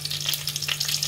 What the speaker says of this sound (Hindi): तो घी ये गर्म हो चुका है. अब मैं इसमें जीरे का तड़का और साथ ही साथ जो हमने हरी मिर्च रखी थी